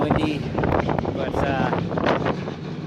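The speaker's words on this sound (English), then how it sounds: "It's kind of windy" Wind gusting across an open racetrack at a spring drag racing meet, blustery noise buffeting the microphone with fluctuating loudness and a voice speaking over it.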